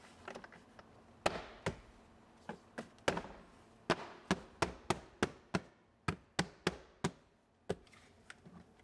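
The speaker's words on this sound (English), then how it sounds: "Now onto the driver's side, we'll put our B-pillar trim on." Sharp plastic clips snap and tap as B-pillar trim is pressed into a Lexus IS250 interior, a string of quick, close knocks that speed up into a rapid run of firm presses, with no voices.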